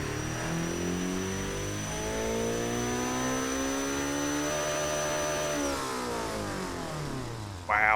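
A Mitsubishi 4G engine in the BeamNG driving game screams steadily toward 9,000 RPM, a loud, sustained high-pitched whine that climbs and holds before easing off near the end.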